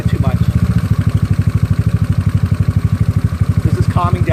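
A GY6 scooter engine fitted with an OKO PWK 30mm carburetor idles close by with a strong, rapid, even putter that holds steady throughout, while someone talks briefly over it.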